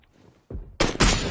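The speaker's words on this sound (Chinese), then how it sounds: "打了一枪" Gunfire in the PUBG battle royale game: two or three sharp, loud bursts in quick succession after a faint, muffled start.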